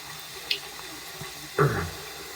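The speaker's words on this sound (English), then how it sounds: "Just little bit more water." Water is added to a shaving soap lather with a badger or synthetic brush: a faint drip, then a short splash near the end over quiet room hiss.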